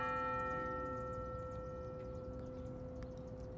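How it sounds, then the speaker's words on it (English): A school bell rings on the hour, its sustained metallic tone humming steadily and slowly fading over a few seconds, heard faintly from some distance. "That bell is strong."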